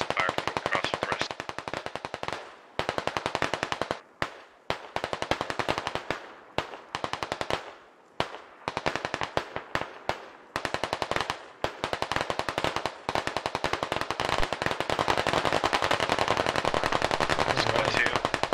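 Squad video game firefight: dense, rapid machine-gun bursts crackle close and loud almost continuously, broken by short pauses, with voices talking over the gunfire.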